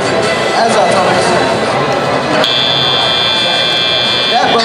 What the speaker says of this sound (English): That buzzer means the teleoperator just started.